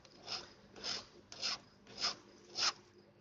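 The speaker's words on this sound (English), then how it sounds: "So I'm filing the base metal." A hand file rasps across the base metal of an ornate metal cross in five evenly spaced, slow strokes, each a soft scraping swell, close and quiet with brief pauses between strokes.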